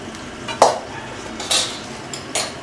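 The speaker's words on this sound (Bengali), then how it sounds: "আমি এখন এই কড়াইটা নামিয়ে রাখছি" A metal wok is handled on the stove and set down, three separate clanks and scrapes over a faint background hiss.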